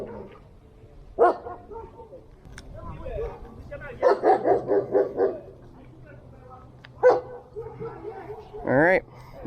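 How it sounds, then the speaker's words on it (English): Several sharp dog barks and yips ring out at intervals, fairly close, with a short whimpering whine near the end amid outdoor background noise by a canal. "These dogs here couldn't be any louder"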